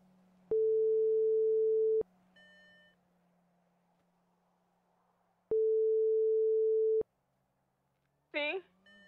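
A phone in the GTA RP video game rings without an answer, two long, steady electronic tones separated by a pause, then a short warbling chirp at the end, over a low background hum.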